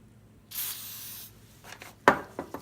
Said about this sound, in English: I'm going to start by spraying some more rust release.